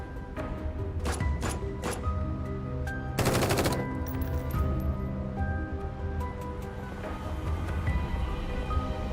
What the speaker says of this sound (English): the gunshots that were previously only echoed distantly, and the tunnel actually sounded closer and closer